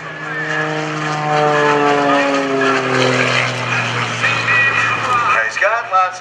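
A propeller aerobatic plane at an airshow tumbles off the top of a loop with a roll, its engine droning loudly and changing pitch steadily throughout while a commentator talks over it.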